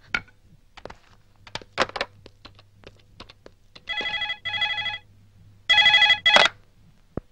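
Telephone ringing in a film scene, two pairs of trilling electronic rings sounding clearly and fairly close, preceded by scattered clicks and taps like keys being pressed.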